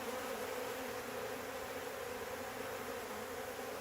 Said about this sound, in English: Got these bees cleaning everything out for me.